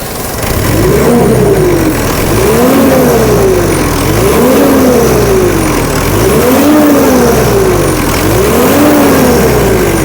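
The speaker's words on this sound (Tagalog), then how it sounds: "Rev!" Mitsubishi Montero diesel with a newly installed VGT turbo, revved about five times in a regular rhythm, each rise and fall clear and loud up close, with a faint turbo whistle above the engine.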